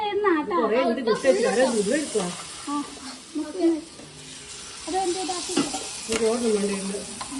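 Maggi noodles are mixed in a pan with a hot sizzle and repeated spoon scrapes, while a person talks briefly at the start and again later.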